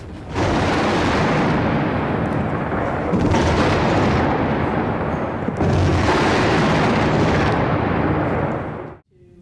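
Explosions from a military strike on Baghdad, heard in a news recording, roll as loud, continuous booming rumbles that fill several seconds and then cut off abruptly. No voices are heard.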